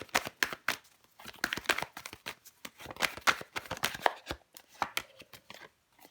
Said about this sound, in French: Je vais recouvrir des cartes pour vous, les béliers.